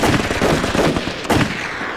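Gunfire in a war scene of a kung fu film: two or three sharp, loud shots cracking out over a noisy, rumbling background, the bursts close together.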